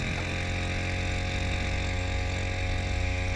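A small outboard motor mounted on a Samoa Triplo family kayak runs at a steady drone with a low hum and even harmonics, close and continuous with no talk over it.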